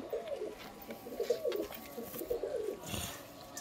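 Pigeon cooing, a high-flying breed with an all-white beak, in soft repeated low coos throughout, close by with a steady background hum and no talk.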